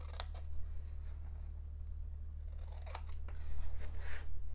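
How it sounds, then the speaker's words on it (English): Scissors snipping a square off paper: a few sharp, close cuts, spaced apart at first and then quicker, over a steady low hum. "So I'm going to cut just this 1 square off."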